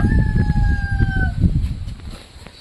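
A 5.5 kg turkey lets out a loud, drawn-out tonal call up close, followed by rustling and low clucking noises.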